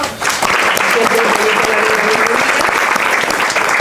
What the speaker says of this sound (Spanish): También vamos a darle un aplauso.